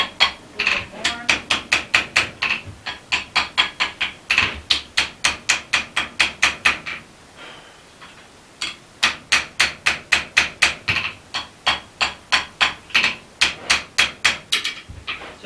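Forged iron struck on an anvil while outlining a cusp on an arrow-pattern latch body: quick, bright, ringing hammer blows in rapid rhythmic bursts, close and loud, with one brief pause partway through.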